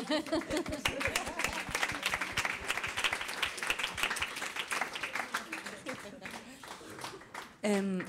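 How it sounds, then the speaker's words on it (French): Audience applause at a talk on the new Catalan film wave, steady dense clapping across the room with voices mixed underneath and someone starting to speak at the end. "On peut applaudir."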